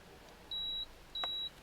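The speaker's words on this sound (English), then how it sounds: "2 beeps" Two clear electronic beeps from a rechargeable 12-volt travel coffee machine, each held for about a third of a second with a short gap between, over quiet room hum.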